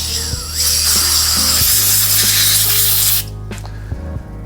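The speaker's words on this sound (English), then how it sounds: "Hold it down, lightly press the compressor, and just clean it just like this." A loud, close blast of compressed air from an air compressor nozzle hisses steadily for about three seconds while it cleans dust from a laptop cooling fan, with a faint whirring fan tone underneath.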